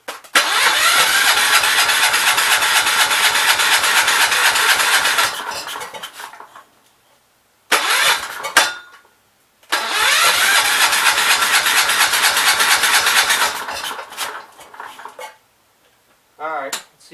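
A Kohler K321 small engine being cranked on repeated starting attempts: long bursts of loud, rhythmic cranking that sputters without catching, separated by short silences and a few brief cranks, with no voices.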